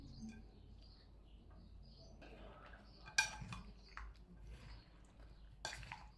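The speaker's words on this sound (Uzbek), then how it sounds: "Hammasini aralashtiramiz endi." Fresh summer vegetable salad being mixed in a bowl with salt sprinkled in, quiet clinks and scrapes of a utensil against the dish, a few sharper knocks among soft stirring.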